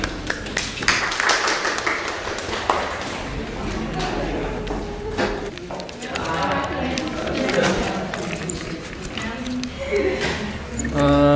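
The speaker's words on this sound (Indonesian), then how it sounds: "Tepuk tangan dulu." Students clapping in a classroom after group presentations, scattered uneven hand claps mixed with chatter and talking throughout, moderately close and fairly quiet.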